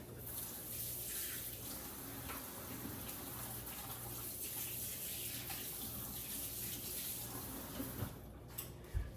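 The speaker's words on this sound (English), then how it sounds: "I'm going to wash my hands." Hands washed under a running kitchen tap while a gluten-free dinner bakes in the oven, a continuous steady gush of water with faint splashing changes throughout, a small clink near the end.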